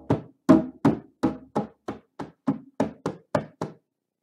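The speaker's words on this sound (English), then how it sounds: "they put their fingertips on the top of the drum and they try to drum almost like a claw-like fashion." A hand drum struck with fingertips held down on the head in a claw-like grip gives about a dozen short, dead, muffled knocks in a steady quick rhythm, close and dry with no talk.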